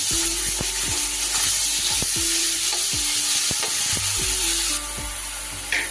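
Ground cabbage leaf paste goes into a hot pan and fries with a loud, constant sizzle, while a spatula scrapes the pan in regular strokes about every half second.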